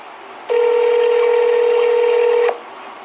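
A phone line sounds as a call is dialed: one steady electronic tone of about two seconds, clear and up close, with quiet room hiss before and after and no voices.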